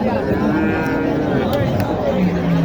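Sahiwal and Gir cattle low and moo at a livestock market, their deep calls rising over constant background noise and some nearby talk.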